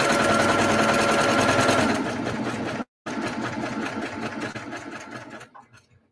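Sewing machine stitching a quilt seam, a rapid, even mechanical chatter heard up close. It slows, stops briefly, then resumes at a softer rhythm before trailing off, with no talk.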